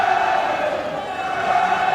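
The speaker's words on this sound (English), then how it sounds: "the crowd comes to life" Rugby stadium crowd at a Pro 14 match between Dragons and Benetton, a steady broad roar of cheering and shouting, loud and continuous throughout.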